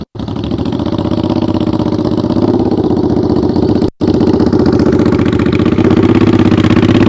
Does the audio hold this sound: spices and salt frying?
no